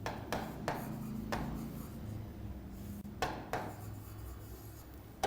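Chalk or marker strokes on a board, a few quick scraping bursts separated by pauses, close and quiet with a low hum underneath.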